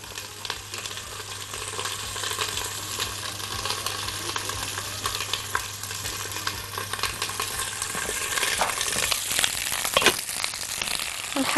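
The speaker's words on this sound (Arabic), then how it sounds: "من وقت للتاني بنروح نقلب الفلفل، الفلفل ما بيحتاجش وقت كبير خالص ان هو يتحمر" Hot peppers frying and being stirred in a pan, a steady sizzle with crackles and occasional scraping that grow louder toward the end, with no talk.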